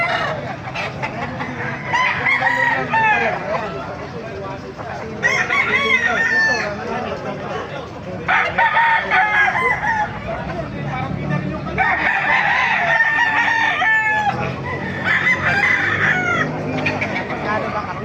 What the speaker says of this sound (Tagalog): papakita ko sa inyo mga manok dito sa baliw